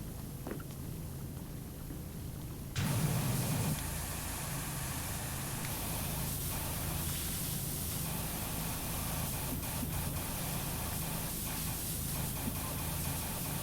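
Steady broadband hiss of a pressure washer spraying cleaner in PowerWash Simulator, a continuous loud jet that surges and thickens a few seconds in and then holds without pause.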